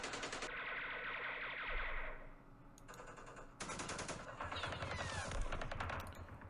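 Machine-gun and rifle fire in the wargame Campaign Series Middle East, loud sustained bursts that cut off abruptly and resume, echoing, with no talk.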